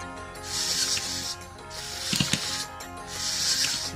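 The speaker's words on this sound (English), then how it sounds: "This is the 3D printed Inmoov robot arm." Servo-driven fingers of a 3D printed InMoov robot hand whir and ratchet in three bursts, with a few sharp clicks of the mechanism between them, recorded close up with no talking.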